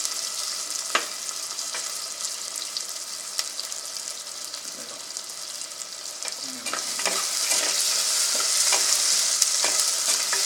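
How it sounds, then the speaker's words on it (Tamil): Tomato and onion sautéing in a pan for pulikuzhambu with bottle gourd: a steady, bright sizzle with stirring scrapes throughout, growing louder in the second half. "இந்த மாதிரி கொஞ்சம் நல்லா வதக்கிக்கிங்க."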